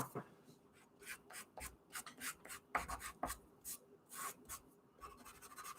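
A pencil eraser rubs back and forth on paper while a portrait is being drawn, giving close, faint, irregular scrubbing strokes with short pauses.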